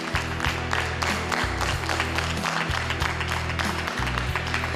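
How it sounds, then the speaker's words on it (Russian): Crowd applauding at a stage results announcement as a winning teacher is called up, a wash of clapping under a loud steady musical drone, sustained without pause. "Аплодисменты громче."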